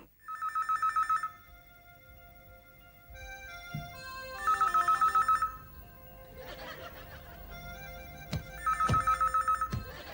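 Telephone bell rings in three bursts of rapid trilling rings, clear and close, separated by quieter stretches of indoor scene sounds with faint laughter.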